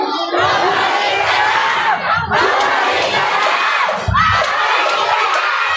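A large rally crowd in the Philippines shouts and chants loudly and continuously, with surging waves of voices and cheers close by and overlapping throughout.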